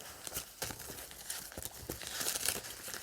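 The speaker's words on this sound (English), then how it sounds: "So let me get shuffling." Tarot cards are shuffled by hand, giving quick, close papery riffles and crinkly flicks in irregular bursts that grow busier toward the end, with no talking.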